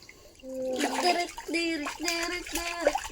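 Water splashes and pours as children are rinsed using a dipper and pail, with a voice and other voices heard over the repeated sloshing.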